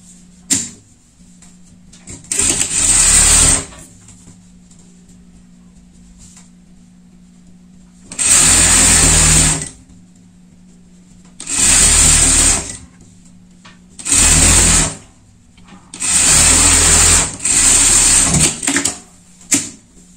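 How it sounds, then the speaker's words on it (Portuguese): A sewing machine stitches a safety seam on a pet sports sweatshirt, running in five or six loud close bursts of a few seconds each, separated by quiet pauses with no talking. "Uma costura de segurança."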